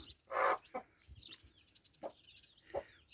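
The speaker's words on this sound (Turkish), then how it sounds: "Böyle tavuğun böyle çağırması civcivlerini o kadar seviyorum" A hen clucks softly and repeatedly nearby, calling her chicks with a few short calls spaced apart, with faint peeping chirps of the chicks in the background.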